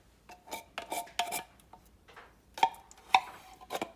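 Tomato soup from a regular 10.75-ounce can being scraped out into a pan, with scattered metallic scrapes and clinks of utensil against can and pan, close and moderately quiet.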